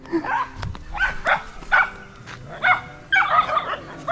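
A dog barks in a short series of sharp yaps outdoors near banana trees, moderately close, with rustling and faint voices between barks.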